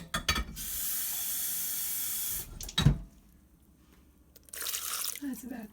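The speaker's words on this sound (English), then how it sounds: "And then we're going to add about 3 cups of water." Water pours into a blender holding large red cabbage leaves, a steady splashing rush lasting a couple of seconds, then a clunk, quiet, and a second shorter pour, with a person speaking between.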